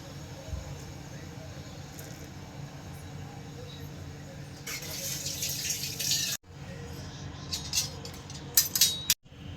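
Hot water pours briefly in a rushing splash midway through, over a steady low background rumble, then a few clinks and scrapes follow.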